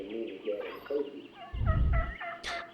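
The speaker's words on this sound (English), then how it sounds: "turkeys." Turkeys gobble on a nature show inside the game Kentucky Route Zero, a run of rapid, warbling gobbles in quick bursts, with a deep low thump partway through and a brief high squeal near the end.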